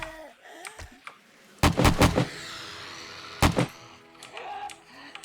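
In the video game 7 Days to Die, a hip-fired weapon lets off a quick cluster of three or four loud shots, then a pause and another sharp double shot, over a faint background and a few low voices.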